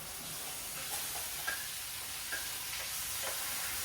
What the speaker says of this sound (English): You hear that sizzle right there, guys.